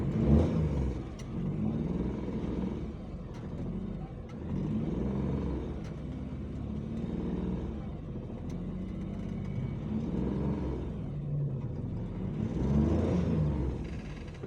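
Suzuki Mehran car engine, just fitted with a new CB point and distributor cap, starts and runs in a steady low idle rumble with rhythmic pulsing swells, close by and without talk.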